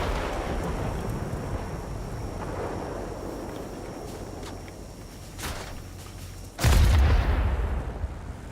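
Gunfire from an enemy plane in a World of Warplanes air battle: a steady engine and wind roar, a few sharp short bursts near the end and then a loud, heavy boom.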